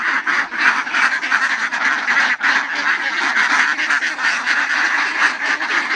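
A flock of ducks at a duck farm near Tarbela Dam quacks continuously and loudly, with many overlapping calls forming a busy, nearby chorus.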